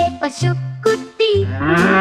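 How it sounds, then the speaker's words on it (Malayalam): A calf moos in a children's song, with several sustained loud bleating lows in quick succession, clear and close. "പശുക്കുട്ടി"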